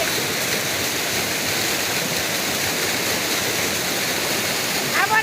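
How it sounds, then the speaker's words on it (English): A waterfall pours in a steady, loud, continuous rush, close by, with a brief clatter near the end. "I've already washed in this waterfall"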